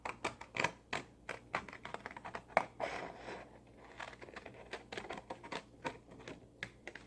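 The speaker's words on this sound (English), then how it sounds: "I'm using safety scissors." Safety scissors snip carefully around a paper shape, quiet close crisp cuts in an irregular run with brief pauses, with no talk over them.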